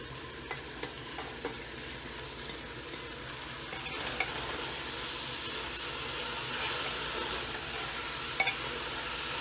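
Potatoes and cauliflower go into a hot pan and are stirred, giving a steady close sizzle with occasional scraping taps, continuous and moderately quiet without talking.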